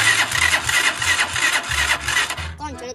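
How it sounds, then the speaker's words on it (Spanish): A car engine cranks repeatedly but fails to catch, its starter churning in uneven bursts for a few seconds, close and loud, with a brief voice at the end. "motor yo le llevo al mecánico 27 veces y ni así me prende"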